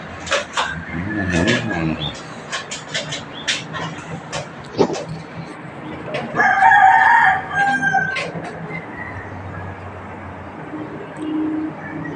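A rooster crows amid a yard of gamefowl, with clucking birds and occasional voices nearby, loud and close with several calls across the stretch.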